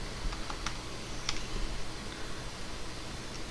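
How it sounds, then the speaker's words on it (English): Someone types on a computer keyboard at a desk, a few light scattered key clicks over a steady hum of background noise, with no talking. "You'll type in the airport you want, just type in the ICAO."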